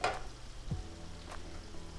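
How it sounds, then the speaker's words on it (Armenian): Flour frying in a pan for a moussaka sauce, giving a soft steady sizzle with occasional scrapes of a spoon stirring against the pan, close and alone without talk. "մի քանի րոպե խառնելով տապակում է"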